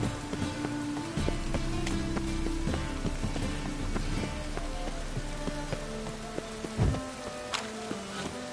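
Rain falling in The Witcher 3, a steady patter and hiss of drops on surfaces throughout, layered with game ambience and occasional brief knocks.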